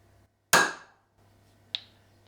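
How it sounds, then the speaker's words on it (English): A single sharp hammer strike on metal to punch a dent for a drill bit, loud and close, followed a second later by a lighter tap, with near silence between. "Just make a dent so that we've got somewhere for the drill bit to go into"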